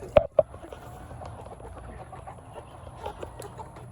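Chickens in a coop give two sharp, close clucks in quick succession, then soft, scattered clucking and low scratching carry on quietly.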